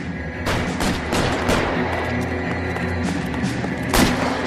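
Sustained gunfire in the crime game L.A. Noire, with a steady barrage of shots and booming impacts layered over a dense noisy background and a heavy blast near the end.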